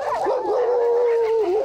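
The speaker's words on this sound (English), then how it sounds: "The Canadian Eskimo dog is the indigenous dog of the Arctic, really." A Canadian Eskimo dog, the Arctic sled breed, gives a single long, wavering howl that rises and bends in pitch, loud and close with no voices over it.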